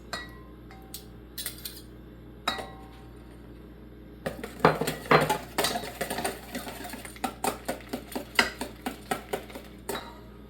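Onions tipped into a pan for an omelette, a soft clatter of utensil on pan followed by a busy run of scraping, clinking and sizzling stirs, close and fairly loud with no talk.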